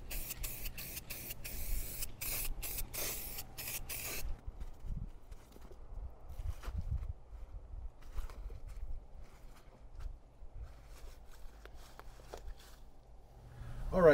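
A spray gun hisses out a final coat of paint on a Mercruiser sterndrive in a series of short quiet bursts during the first four seconds, then gives way to faint handling noises and shuffling.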